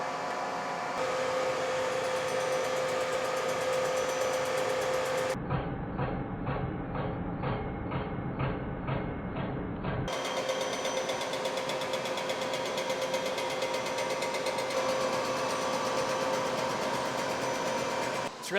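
A milling machine takes a five-thousandths cut decking a 383 stroker engine block, a loud continuous mechanical whine and drone with a rhythmic grinding stretch in the middle, heard close by.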